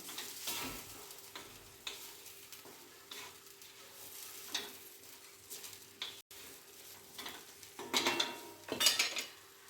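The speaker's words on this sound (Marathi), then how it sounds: "मिश्रण एकजीव करून घेऊया" A chilli mixture with turmeric is stirred in a pan, a spoon scraping and clinking against the metal with a faint sizzle beneath, the strokes irregular and growing louder near the end.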